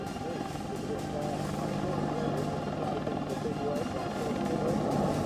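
Military attack helicopter in flight over Afghanistan, a loud steady rotor drone with a throbbing low thrum that holds unbroken throughout.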